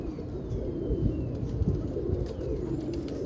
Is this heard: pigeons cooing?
yes